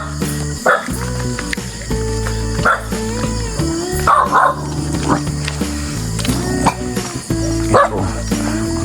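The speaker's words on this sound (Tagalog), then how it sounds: "May alaga kaming aso dito." A pet guard dog on a farm barks in several sharp bursts spread across the clip, set against a steady, tonal background hum.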